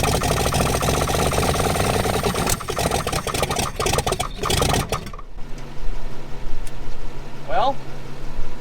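Junkyard 1962 Chevrolet Impala six-cylinder engine running with no exhaust, a loud, rapid clattering idle for about five seconds that then cuts out, followed by quieter background and brief voices.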